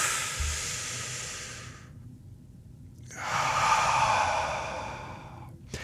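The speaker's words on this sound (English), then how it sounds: "hold for 1, breathe out for 5." Slow, deliberate breathing exercise: a long audible breath of several seconds, a pause of about a second, then a second long breath, close and alone with no talking.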